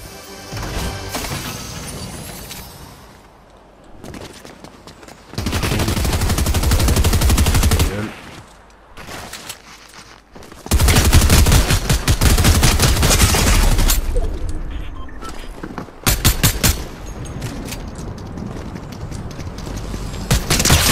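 Bursts of enemy machine gun fire in Fortnite come in loud, dense stretches, with sustained rattling volleys separated by quieter pauses and sharp crackling impacts.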